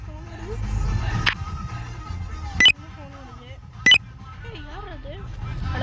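A phone rings twice inside a GTA-style open-world video game, with two short bright chimes cutting through steady game ambience and someone talking nearby.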